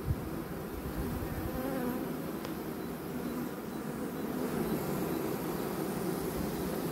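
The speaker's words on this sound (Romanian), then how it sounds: "Se mai aude pe aici o matcă." A steady, dense buzzing hum of many bees inside a hive during swarming season fills the clip, continuous and close, with no voices over it.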